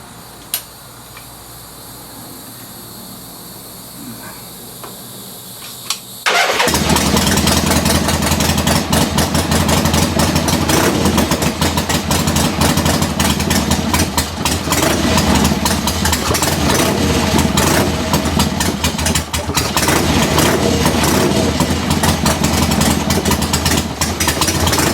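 A 1976 Harley-Davidson Ironhead Sportster with freshly set timing, quiet at first, then its engine fires and settles into a loud, steady, rumbling idle that runs unbroken and close up, with no talking.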